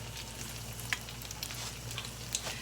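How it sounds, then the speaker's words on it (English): Egg rolls pan frying half-submerged in oil, a steady close sizzle and crackle with a few small pops, no talking. "I'm just going to pan fry them, and I just try to put them, submerge them halfway."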